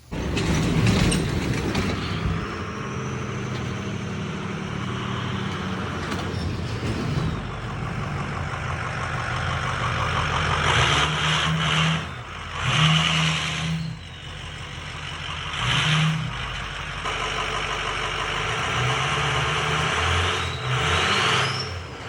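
A 6.0 Powerstroke diesel truck with a bigger turbo runs on a dyno, a sustained low engine drone with rising turbo whistle and several louder surges of throttle, heard alone without talk.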